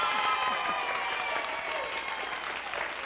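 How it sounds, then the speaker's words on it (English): Sustained applause from a group, clapping densely and evenly, with faint crowd voices mixed in. "Give yourselves a round of applause."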